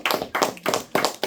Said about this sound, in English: shall we give the seniors a round of applause?